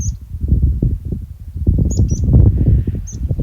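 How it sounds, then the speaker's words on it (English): A meadow pipit sings from a Lake District fell, thin high chirps repeated a few times at a distance, over loud wind buffeting and rustle from a hike. "and there you have it, a meadow pipit."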